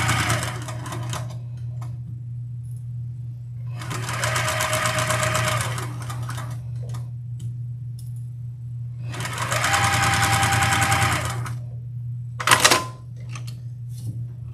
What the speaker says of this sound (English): I'm just going to sew a 1/4 inch seam across here.